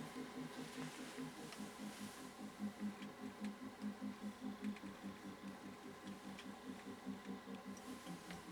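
A 1962 Husqvarna Viking Type 21E sewing machine stitching, producing a quiet, fast, even mechanical pulsing that stays steady throughout.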